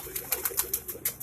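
Pigeons kept by a fancier cooing, a run of soft low coos repeated about every tenth of a second or two, close by and moderately loud, with no voices.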